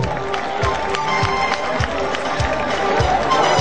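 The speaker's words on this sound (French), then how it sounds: "Candidat numéro 1, Angus Gladys, que je vous demande d'applaudir" A crowd at the N'Dabo festival in Affery applauds a contestant, dense clapping and crowd noise over a regular pattern of low thuds, loud and close throughout.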